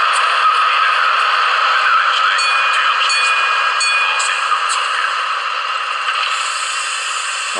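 An ESU sound decoder in an HO-scale DB V100 diesel model locomotive gives off a steady, loud, tinny engine drone with rattling and clattering layered over a constant hum.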